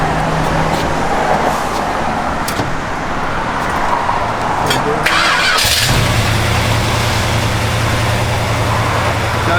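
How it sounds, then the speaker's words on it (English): A 1971 Plymouth GTX engine cranks and catches about halfway through, then settles into a loud, steady idle close by after a stretch of quieter background noise. "Go ahead and fire it up."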